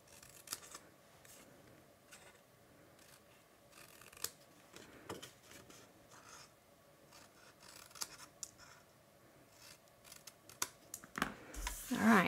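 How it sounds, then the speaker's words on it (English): Quiet, scattered snips and rustles of scissors miter cutting paper tabs for an Easter bunny craft, with intermittent cuts and paper handling close up and a louder rustle at the end. "I'm gonna come in and miter cut those as well."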